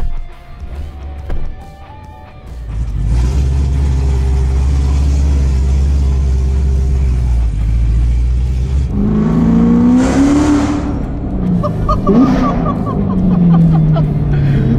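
A Corvette C7R sports car accelerating during a passenger ride, heard from inside as a loud, sustained engine roar that climbs through several gear changes after a brief quieter start.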